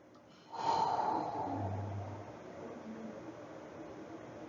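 A single long, deep breath drawn in and slowly released during a guided breathing exercise, soft and close, with a steady airy hiss fading over several seconds.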